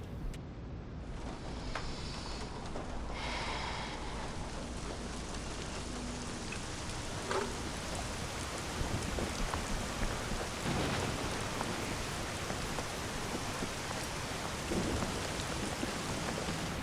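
Heavy rain pours steadily throughout, loud and close, with a few rumbles of thunder mixed in and no voices.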